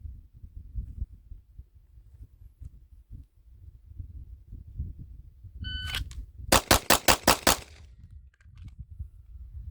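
Rapid string of about six sharp pistol shots from a limited-optics handgun during a draw drill, evenly spaced and loud, with shooting-range noise before and after and no talking.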